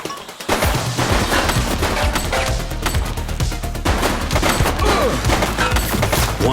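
Rapid gunfire rattles through a police shooter game, dense bursts of loud shots repeating steadily for several seconds alongside heavy thuds and impacts, with no speech.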